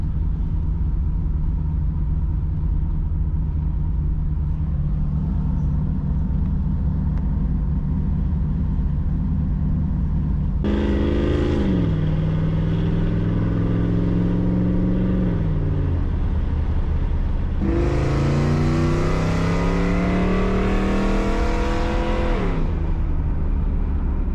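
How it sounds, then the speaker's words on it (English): A Camaro Z28 V8 engine, tuned to fix popping and misfiring, rumbles at idle, then revs hard twice, its roar climbing and falling, close and loud. "Hard acceleration, light acceleration, not experiencing that popping or misfiring anymore"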